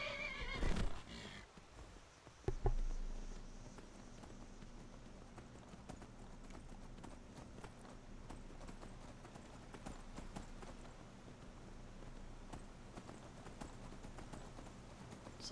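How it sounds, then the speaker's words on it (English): Horse hooves clip-clop steadily along a road in the video game Skyrim, a continuous rhythmic trot with a neigh and sharp thumps near the start, heard alone without talk. "called for my horse so we can get going here a little bit faster"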